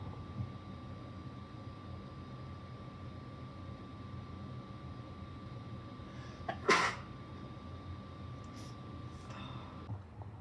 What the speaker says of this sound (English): Hold on a second, I'm gonna sneeze.